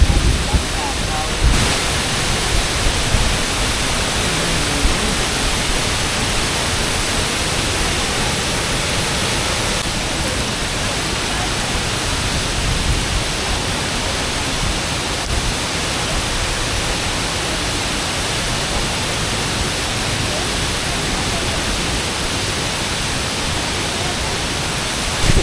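Wachirathan waterfall in the rainy season, heavy water pouring down in a constant broadband roar that stays loud and unbroken throughout, close and steady with no distinct voices above it.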